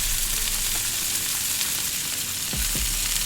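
Onions and tomato frying in a pan for Hyderabadi chicken dum biryani: a steady, close sizzle runs throughout with no talk, broken near the end by two brief scraping stirs.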